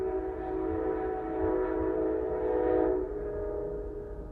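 A train rumbles past with its horn sounding a sustained, steady chord over the rolling noise of the cars, moderately loud and fading slightly toward the end.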